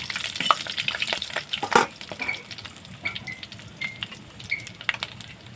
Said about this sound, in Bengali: এখানে দেব ফোড়নে শুকনো লঙ্কা, তেজপাতা, গোটা গরম মশলা আর একটা স্টার আনিয়ন। এটা আমি দিয়ে দিচ্ছি তেলের মধ্যে।